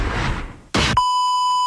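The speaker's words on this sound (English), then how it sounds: "Harsh words that had to be beeped out from two people involved in a road rage incident in eastern North Carolina" On a TV news report about a road rage incident in eastern North Carolina, a loud, steady censor beep cuts in abruptly after a brief burst of shouting and holds as a single pure tone to the end.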